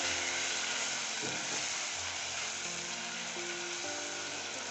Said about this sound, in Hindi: अब हम इसको मसाले को थोड़ा भून लेंगे।